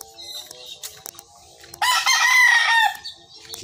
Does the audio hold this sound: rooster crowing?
yes